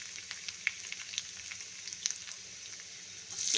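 Garlic fries in hot oil alongside mustard seeds and ginger, a continuous close sizzle dotted with small sharp spits and pops, ending with a slight swell in the hiss; no voices.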